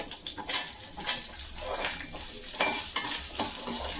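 Medium-size onion frying in a pan for a simple fish curry, with a steady close sizzle broken by repeated stirring scrapes and bursts, no voices.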